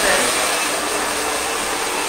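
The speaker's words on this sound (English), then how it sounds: "I like to take the dryer through it to give it a little fluff up" A hair dryer blows through a wig, a steady broadband rush of airflow held at an even, fairly loud level from start to finish without pauses.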